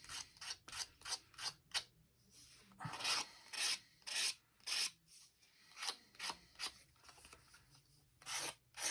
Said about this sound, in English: just gonna file the little edges because it makes me happy